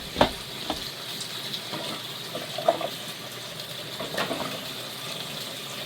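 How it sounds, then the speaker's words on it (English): Water poured into the bowl of a food processor while washing it out, a steady close splashing trickle with a few brief knocks, no voices. "I'm going to put a little bit of water in it."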